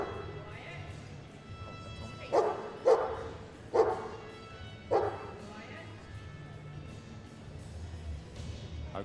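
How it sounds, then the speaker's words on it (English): A dog barks four times in quick succession on command at a Crufts 2013 activities display, loud and close, then quiets, with faint background murmur around it. "The dog's commanded to bark, and he's actually commanded to be quiet."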